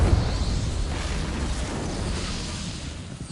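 A blasting curse goes off in a video game with a loud, boomy burst at the start, and its rumbling roar then decays steadily over about three seconds.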